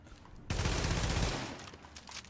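Firecrest weapon in The Division firing a dense, rapid burst of shots, loud and close, lasting about a second after a brief quiet lead-in, then tailing off into game ambience.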